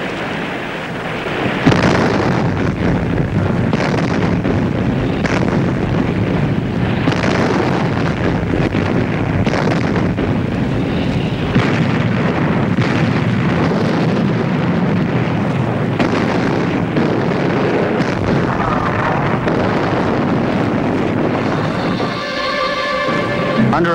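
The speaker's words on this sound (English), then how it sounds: "The Navy guns finally get their chance." Naval gunfire during the WWII landing in Sicily, heavy continuous roaring blasts and rumbling booms that run loud and dense for the whole stretch, mixed with wind buffeting on the microphone.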